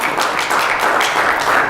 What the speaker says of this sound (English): Paulette's clapping